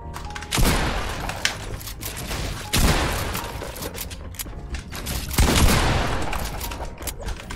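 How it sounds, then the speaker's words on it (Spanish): Bursts of rapid gunfire from a bot shooting in a video game, three loud volleys each followed by sustained crackling shots and rattling, close and dense with no talk over them. "El bot le está disparando a alguien"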